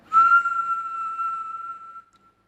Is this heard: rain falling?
no